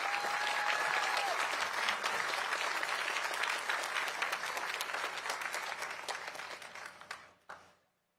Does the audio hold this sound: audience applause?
yes